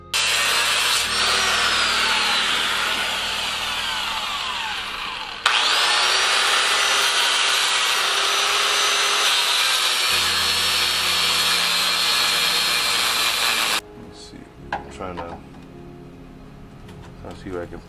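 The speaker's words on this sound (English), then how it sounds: "Just gonna grind this off right here just to get it down to this." A power grinder screeches loudly and continuously as it strips rust from the door post of a 1993 Foxbody Mustang GT, dipping briefly midway and then cutting off, followed by clanks and quiet shop noise.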